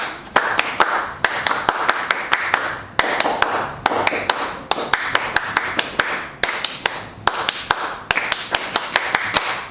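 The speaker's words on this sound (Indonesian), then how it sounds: "Tepuk pramuka." Group of scouts performing the rhythmic tepuk pramuka scout clap at a closing ceremony: many hands striking together in sharp, synchronized bursts, grouped into a repeating patterned rhythm with brief pauses, loud and close with no talking.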